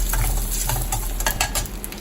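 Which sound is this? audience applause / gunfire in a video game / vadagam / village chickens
vadagam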